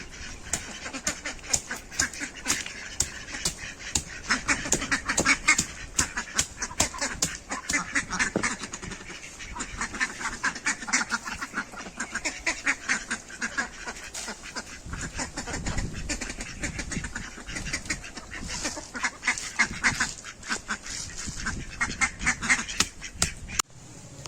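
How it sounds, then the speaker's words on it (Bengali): Ducks at a pond behind a rural Bengal house quacking busily while being fed, a dense, steady chorus of close, sharp quacks continuing throughout. "চলো এবার হাঁসগুলোকে দেখি।"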